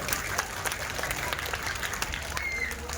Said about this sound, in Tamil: அவங்களுக்கு பெரிய கைத்தட்டல்